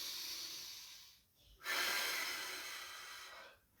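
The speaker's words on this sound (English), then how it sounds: "at which point, a couple of deep breaths." A person takes a couple of slow, deep breaths during a morning mobility routine, a long airy inhale and exhale heard close and alone with a short pause between them.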